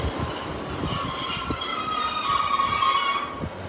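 Train 15205 running empty through Sheffield station, with high, sustained wheel squeal and thumping rail joints as it passes nearby.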